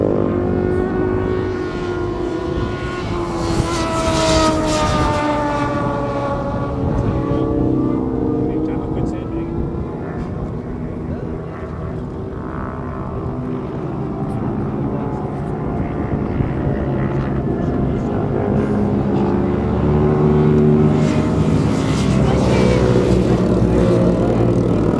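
Superbike motorcycles race around a track during a 550 Superbike event, engines droning and rising in pitch as they go back and forth through the laps, loud and continuous, with a commentator talking over them.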